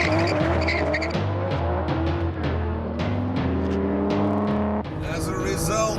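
An Aston Martin DBS with its 510-horsepower V12 drives hard, the engine note climbing and dropping through gear changes with a brief tyre squeal, loud and close throughout.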